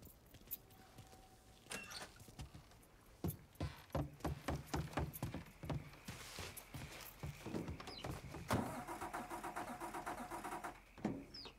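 A truck engine starting in the video game Mafia 3: keys jangle and clicks sound, the starter cranks in a series of uneven bursts, then the engine catches and settles into a steady mid-pitched idle.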